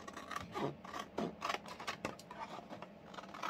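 Scissors cutting away part of a sewing piece near the gusset and tab, a few short, close snipping and rasping strokes at a quiet level.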